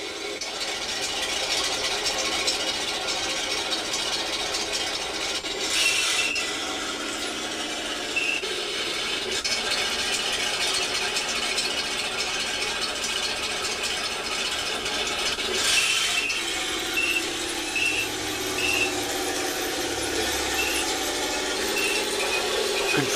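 An IBU2 sound unit in an RC tank model plays its engine start, a mechanical ratcheting crank followed by a steady rattling, gear-like idle, moderately loud with a few clicks and shifts and no talking.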